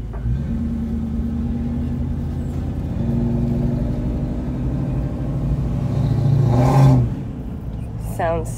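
A 1962 Buick Special Wagon drives along with a steady low engine rumble inside the cabin, swelling louder near the end before easing off, while a person talks over it.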